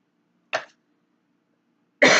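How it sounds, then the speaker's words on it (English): Two separate coughs from a woman getting over a cold, a short sharp one followed by silence and then a louder, fuller cough, close and alone. "I'm sorry if I cough off and on"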